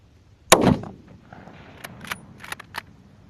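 A single loud, close rifle shot from a WW2 Russian rifle fired outdoors at a cell phone, followed by a few faint clicks and knocks.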